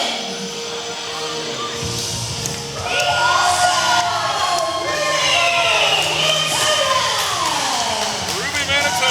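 A wrestling crowd reacts to a British wrestler, first as a low murmur, then swelling after a few seconds into loud, sustained shouting, jeering and cheering that carries on to the end.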